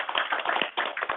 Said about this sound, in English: I guess we can give one more round of applause